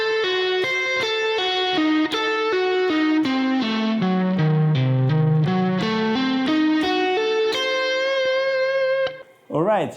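An electric guitar with distortion plays a diminished 7th arpeggio sequence in a steady, even rhythm, descending and then climbing back up, ending with a held note and a quick bent squeal.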